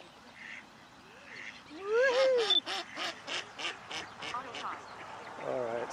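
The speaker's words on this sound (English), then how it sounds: "Here come the ducks, here come the ducks." Ducks at a bog, coming closer in search of food, let out a rapid run of loud nasal quacks that rise and then pulse in a rhythmic series, close by. A person speaks over them.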